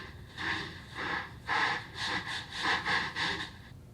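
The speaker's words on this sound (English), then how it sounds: "when you vocode that modulator signal onto the carrier signal" A robotic, vocoded voice on the Akai Force speaking in rhythmic, breathy syllables over a synthesized carrier tone, steady and fairly close with no natural speech alongside.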